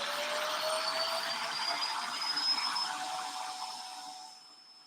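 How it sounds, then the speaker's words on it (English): A vacuum cleaner runs with a steady whining hum and a high thin tone over broadband rushing air, moderately close, before tapering off near the end. "that vacuum cleaner gets on my nerves"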